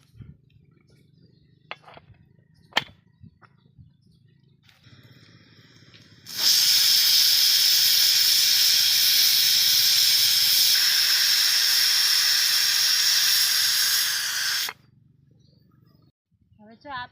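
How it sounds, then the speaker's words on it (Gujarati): Moong beans steaming in a covered pot give a loud, steady hiss that starts abruptly, holds for about eight seconds, then cuts off, with quieter kitchen clatter and faint sounds before and after. "હવે આપણે ઢાંકણું બંધ કરી અને બાફા મૂકી દઈશું"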